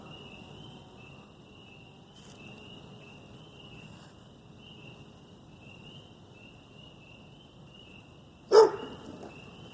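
A dog named Moses gives a single short bark near the end, close by, during an outdoor honey bee swarm catch, over a steady high insect drone.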